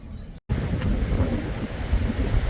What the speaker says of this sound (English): Well, it's a windy morning.